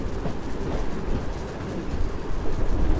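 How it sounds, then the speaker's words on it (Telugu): Bhimavaram to Nagarsol superfast express train running along the rails, a loud continuous rumble and rattle with rhythmic clatter, close by and unbroken for a few seconds. "Bhimavaram to Nagarsol train super fast express"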